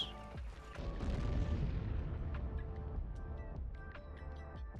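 A big explosion in the video game Sniper Elite 4 erupts into a long, deep, rumbling roar that slowly fades, with scattered crackling debris.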